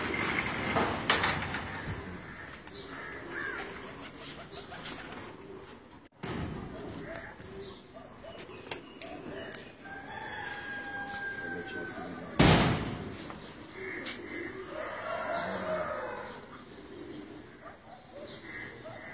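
Pigeons kept in a cage on a rooftop in Gujrat district, cooing and fluttering intermittently, with a door or cage slam and a voice talking over the birds.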